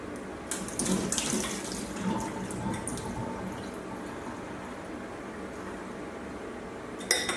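Water runs steadily into a kitchen sink as boiled potatoes are drained, a continuous close splashing rush with a few clinks of a pot near the end.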